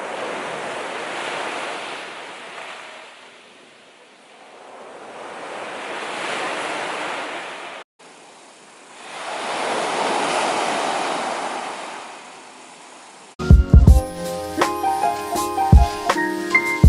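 Ocean waves rolling onto a beach in Abel Tasman National Park, broad washing surges that swell and fade in slow cycles with wind noise, then give way to louder clattering sounds at the end.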